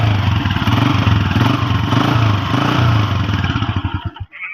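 A 2019-model motorcycle with a tappet adjustment fault runs close by after starting, its engine thumping in a steady, loud rhythm that falters and cuts out near the end.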